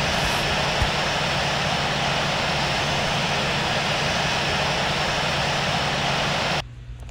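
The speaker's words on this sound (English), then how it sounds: "let's taxi to the gate." Airliner taxiing toward the gate after landing at Orlando MCO, a steady loud engine roar with broad rushing noise throughout, cutting off sharply near the end.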